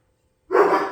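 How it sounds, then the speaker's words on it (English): Several dogs bark excitedly in a sudden close, loud burst that starts halfway through and continues to the end, with no talk over it. "Oh, the dogs are going nuts."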